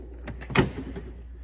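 A drawer sliding open on a diagnostic technician's tool box, the current clamp and lead drawer, giving one short rolling scrape with a soft knock near the middle, close by and with no talk over it.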